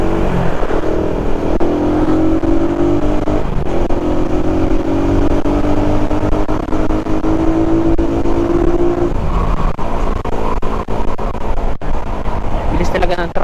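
A truck runs fast on a bypass road, its loud engine droning steadily and climbing in pitch as it accelerates, with close, rough wind and road noise and someone talking over it.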